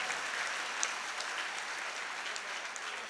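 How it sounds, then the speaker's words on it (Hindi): Steady applause from a school audience at a college poetry event, many hands clapping in a dense, even wash at moderate distance, with no voices over it. "इस बात के लिए एक जोरदार ताली बजाइए आप सारे लोग।"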